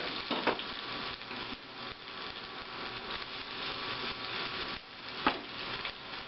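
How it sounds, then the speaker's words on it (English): Sliced onions sizzle steadily in a saute pan lightly coated with oil, a close, even frying hiss broken by a couple of sharp clacks of a utensil against the pan. "I'm going to go ahead and add my onions to it."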